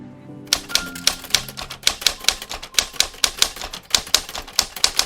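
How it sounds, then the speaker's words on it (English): Rapid typewriter keystrokes clack in an irregular but steady rhythm, a crisp mechanical sound effect in the video game Through the Darkest of Times, heard alone after a brief low musical tone at the start. "Typing noise."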